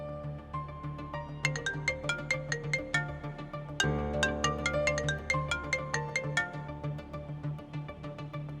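A mobile phone ringtone plays a repeating melodic pattern of bright tones, loud and close, continuing steadily for several seconds over a faint background hum, with no one talking.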